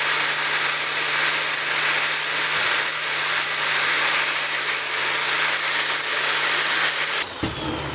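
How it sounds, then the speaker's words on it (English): A cheap Amazon plasma cutter slicing through aluminum, a loud, steady hissing roar with a constant hum underneath that runs unbroken for about seven seconds, then cuts off abruptly. "I'm impressed with how well it cuts through aluminum."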